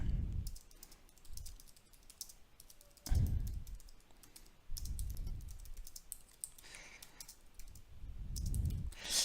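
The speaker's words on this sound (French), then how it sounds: "je tape un texte tout à fait classique et je ne vais pas m'occuper de la fin de la ligne" Typing ordinary text on a computer keyboard: quiet bursts of rapid key clicks in uneven runs separated by short pauses, close and soft, with no talking.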